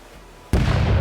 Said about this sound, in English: Cannon crew, give 'em a round.